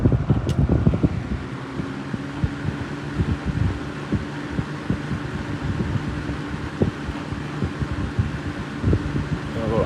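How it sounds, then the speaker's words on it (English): A Kmart McGraw Edison 12-inch box fan runs steadily at medium speed, its worn bearing adding an irregular rattling tick over the continuous whooshing hum, close and fairly loud. "Yeah, there's the bearing rattle."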